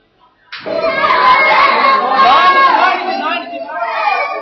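Loud, sustained cries and wailing from a crowd fill a hospital after a school bus accident near Gulmarg, bursting in abruptly and continuing as a dense mass of anguished voices.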